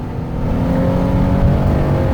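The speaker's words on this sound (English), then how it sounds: "this engine will get up and go" Engine of a 2017 RAM ProMaster 3/4-ton wheelchair-accessible van accelerating on a highway, a steady loud drone with rising engine pitch and road noise throughout, no talking.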